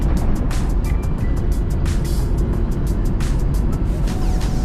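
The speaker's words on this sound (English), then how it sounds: "The car sounds amazing." A 1989 Nissan Skyline R32 GTR engine drones steadily from inside the car while driving, a loud continuous low rumble with road noise and faint ticking throughout.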